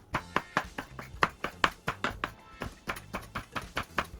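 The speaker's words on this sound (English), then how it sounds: "let us slice our rehydrated shiitake" A knife slices rehydrated shiitake mushrooms steadily against a cutting board, producing a regular series of crisp taps close by with no talking.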